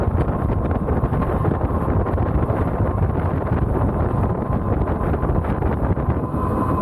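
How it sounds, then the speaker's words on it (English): Strong headwind roars steadily into the microphone while riding an Ariel Rider Kepler e-bike, a loud continuous rumbling buffet with no break for the whole stretch. "This wind is so loud I could barely hear myself talk."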